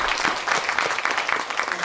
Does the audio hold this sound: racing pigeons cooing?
no